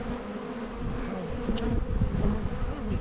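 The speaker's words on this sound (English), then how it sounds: "Plenty of bees." A swarm of bees drones around a swarm trap in a dense, continuous buzz heard up close, with individual bees whirring past now and then.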